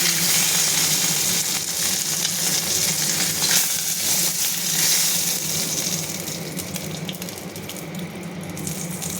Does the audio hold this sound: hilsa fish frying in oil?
yes